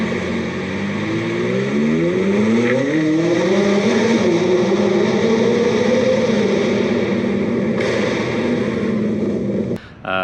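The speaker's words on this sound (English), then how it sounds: "Number 5 is how this thing sounds at high RPMs." A 2019 McLaren 570S, its engine mounted behind the driver, revs hard to high RPM, a loud, steadily rising engine note that climbs through several sweeps and then cuts off abruptly near the end.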